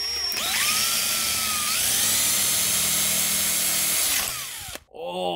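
A power drill whines steadily at high speed as it bores into a part on a 2006 Subaru Outback during CV shaft work, running loud and close for about four seconds before spinning down and stopping.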